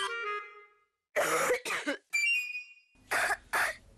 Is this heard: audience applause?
no